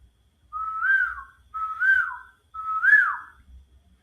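A person whistles in imitation of a bird heard in rural Thailand: three evenly spaced rising-then-falling whistled phrases about a second apart, clear and close, with no talking.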